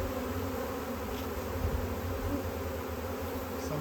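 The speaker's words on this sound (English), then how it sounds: "There are bees fanning inside the box." Swarming honey bees fan inside a hive box, a dense continuous hum close up that holds steady and even with no voices.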